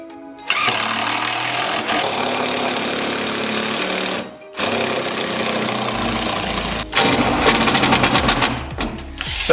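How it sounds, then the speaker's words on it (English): Cordless drill driving screws through wooden braces on a raised garden bed, loud and close: long sustained motor whine broken by short pauses, then a faster stuttering run near the end. "With a good quality drill, it stays pretty powerful all the way till the battery is just completely dead"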